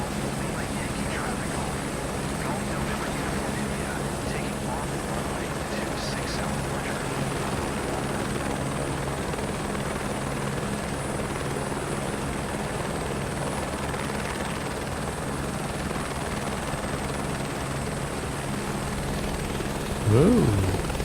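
Simulated helicopter taking off in Microsoft Flight Simulator 2024, a steady rotor and engine drone holding at an even level for the whole stretch, with a voice chatting over it.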